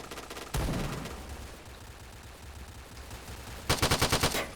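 Ultimax heavy machine gun fire in the shooter game Point Blank: a dense burst at the start, then a quieter stretch, and a final rapid volley of about six loud, evenly spaced shots near the end.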